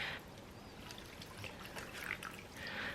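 Broth or chicken stock poured into a pot of ramen noodles, a steady faint trickle and pour running for a few seconds with no talking.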